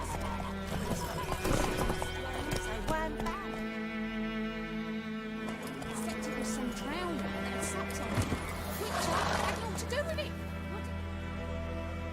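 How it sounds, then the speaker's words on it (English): A horse in The Witcher 3: Wild Hunt clip-clops and neighs, with steady hoofbeats and a loud whinny up close while voices talk over the scene. "Whoa there, Roach."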